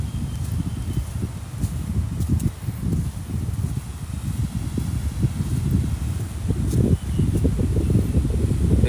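Strong wind blows at Pantai Hiburan beach in Rompin, Pahang, buffeting close with low, uneven rumbling gusts that rise and fall continuously.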